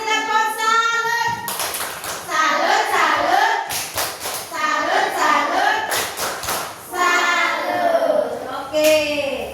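Primary schoolchildren in a classroom perform the tepuk salut clapping routine, bursts of rhythmic group claps alternating with loud chanted and sung children's voices.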